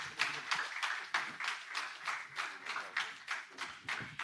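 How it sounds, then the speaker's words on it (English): Scattered audience applause at a company 25th anniversary event, a small crowd clapping in loose pulsing bursts that rise and fall steadily, moderately loud and close, with no voices over it. "Round of applause once again."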